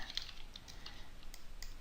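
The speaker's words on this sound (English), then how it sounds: "hit O on the keyboard" Computer keyboard keys tapped in a quiet room, several light, soft clicks spaced irregularly across a faint background.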